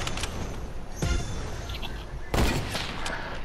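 Gunshots in Fortnite, with two distinct sharp reports about a second apart rising from a busy game soundscape, fairly close.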